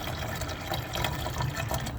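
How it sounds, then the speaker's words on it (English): Water running into a bottle while making homemade country Christmas wine, a steady close bubbling pour that lasts the whole short moment without pause. "And fill it up with water"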